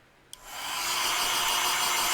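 A blow dryer switches on after a brief click and ramps up into a loud, steady rushing whir that fills the room and holds without pause.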